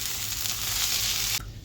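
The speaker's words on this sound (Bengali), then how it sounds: "চালটা ভাজা শেষ পর্যায়ে এখন আমি পানি দিয়ে দেব।" Water poured into rice frying in a pot for a chickpea and meat biryani gives a loud, steady sizzling hiss that cuts off abruptly near the end, leaving a quieter simmer.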